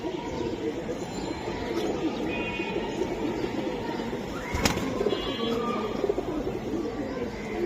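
Giribaz pigeons coo in a steady low murmur through a dense flock, with a brief sharp click partway through and a voice talking faintly under the birds.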